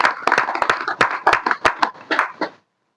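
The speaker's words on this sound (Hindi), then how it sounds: "ताली बजाना है मैया को" A group of people claps hands in a quick, steady rhythm at a devotional satsang gathering, loud and close, before stopping abruptly into silence.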